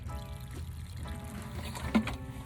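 Water poured from a container onto a potted cactus in a home garden, a light trickling splash running steadily over a low background hum, with a brief louder splash near the end.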